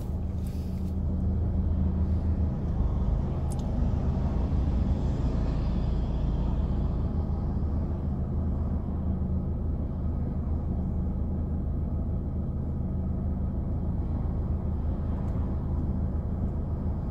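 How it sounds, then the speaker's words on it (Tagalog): Road traffic from a long queue of cars near a university dentistry building, a steady loud rumble of idling and slowly moving engines throughout with no talk. "Grabing haba ng pila ng traffic."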